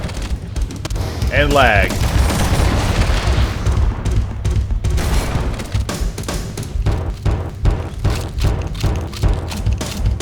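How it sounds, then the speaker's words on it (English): Halo: Combat Evolved gameplay rings with rapid gunfire bursts and booming impacts, including a grenade blast, loud and dense throughout, while a player speaks briefly over the combat. "Grenade."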